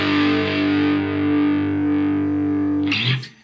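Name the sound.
DOD Boneshaker distortion pedal on electric guitar, heavy overdrive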